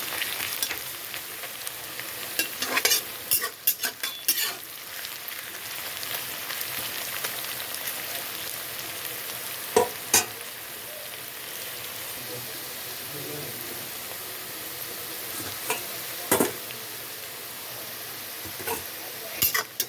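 Onions frying to light brown in a pan, soft continuous sizzle with occasional stirring scrapes and clinks, close but fairly quiet, no talk over it.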